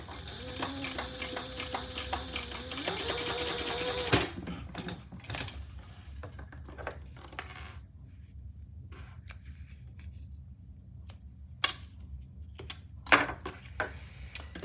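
A sewing machine basting fabric in place hums and whirs steadily for about four seconds, then stops, leaving scattered quiet clicks and taps of handling.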